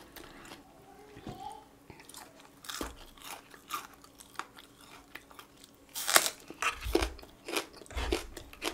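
Close, crisp crunching and chewing of raw green onion with fried chicken, with irregular bites and mouth sounds growing louder toward the end and soft speech in places.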